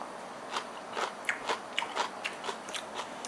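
Crunchy pickled red bell pepper bitten and chewed, a series of crisp, close crunches at an irregular rhythm with no talking.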